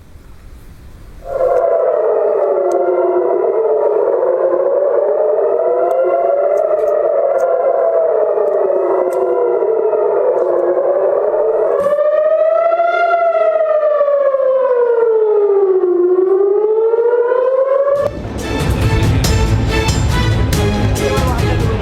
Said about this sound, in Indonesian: Sirine pertahanan bergema di langit malam Israel.